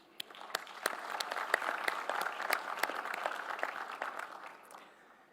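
A hall audience applauds at the MEDays Forum 15th-anniversary closing ceremony in Tangier, crisp individual claps rising quickly into sustained moderate clapping that thins and fades out toward the end.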